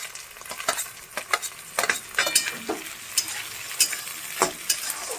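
Green chilies frying in a pan at a Kolkata street-food stall, loud crackling sizzle broken by a rapid series of spoon scrapes and clanks against the pan, close and with no one talking.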